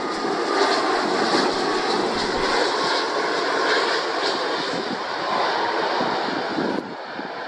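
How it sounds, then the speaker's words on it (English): A military Airbus A330 tanker with a failed left aerial refueling hose drones overhead as a steady, broad jet roar with wind noise, loud and continuous throughout. "This military Airbus A330 was forced to land after its left aerial refueling hose failed to retract."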